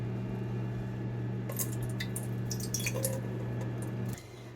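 Almond milk is poured into a cooking pan in a home kitchen, giving soft splashing and dripping over a steady background hum, with a few light clinks before the hum drops away.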